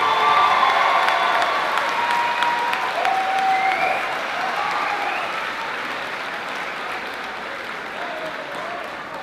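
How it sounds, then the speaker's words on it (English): A crowd at an 8th grade moving-up ceremony applauds the graduates with some cheering and whistles. The clapping is loud and full at first, then slowly fades over about nine seconds. "How about one more collective round of applause for our 8th grade graduates?"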